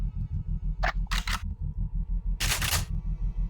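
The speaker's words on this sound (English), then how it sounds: "just checking ammo in the weapons." Weapon ammo checks in the Deus Ex video game: a few sharp mechanical clicks and clacks, close and distinct, over a steady pulsing low game hum.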